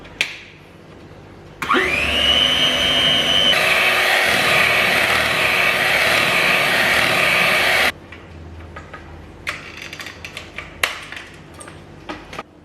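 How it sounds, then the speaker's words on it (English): An electric beater whirs to life and mixes milk, eggs and butter, holding a loud, steady motorized whine for several seconds and shifting pitch partway through, then stopping, followed by faint clinks and scraping in a bowl. "we're going to take our beater and turn this on"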